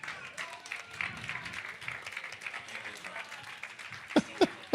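A crowd at a Chicago youth summit panel cheers and claps for a DJ, a steady wash of applause and voices, with a few sharp louder claps near the end.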